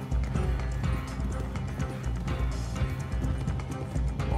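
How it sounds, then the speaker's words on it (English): A horse gallops in Red Dead Redemption Online, the rhythmic hoofbeats steady and fairly loud throughout, with some faint game sounds layered over them. "Oh, my horse right here too."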